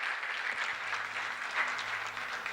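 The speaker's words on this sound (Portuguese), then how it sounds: "uma salva de palmas para os dois" Church congregation applauding Marcelo and Felipe at a Sunday service, a fairly quiet, steady patter of many hands clapping for a couple of seconds.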